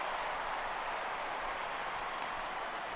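Crowd noise from a baseball video game, MLB The Show 16, as a fly ball is lifted: a steady, broad murmur of spectators swelling into an ooh, with no talk over it.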